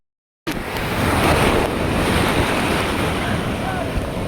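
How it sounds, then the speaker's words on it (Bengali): Sea waves crash and roll at Digha beach, a loud continuous roar of surf beginning abruptly after a short silence, with gusting wind noise buffeting the microphone throughout. "দেখুন ঢেউ কি অবস্থা"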